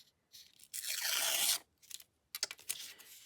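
Paper torn by hand for a collage, one long ripping tear followed by a few short crinkling rips and handling noises, close and alone with no talking.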